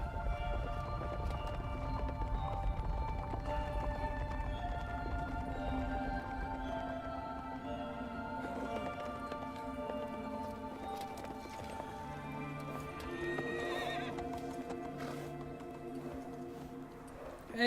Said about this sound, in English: Hey, horses!